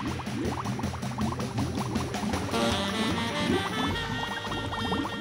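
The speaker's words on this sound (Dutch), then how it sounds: "Doe nu een paar bruistabletten in de vaas en kijk wat er gebeurt." Effervescent tablets fizz in a vase of oil and red-coloured water, giving a close, steady crackle of popping bubbles and soft gurgles that runs unbroken without speech.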